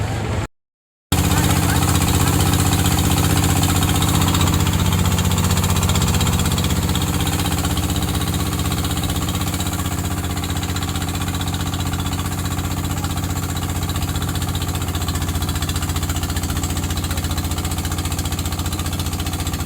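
A boat engine drones loud and steady during a river crossing to the main ghat at Sada Pathor, a continuous close motor rumble that eases slightly in level after the first seconds.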